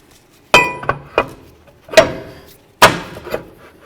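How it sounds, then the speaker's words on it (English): A brake rotor goes onto the rear hub of a 2009–2016 Mercedes-Benz E350, giving several sharp metallic clanks and knocks with brief ringing decay, close by and spaced irregularly. "So now we're going to put our rotor on"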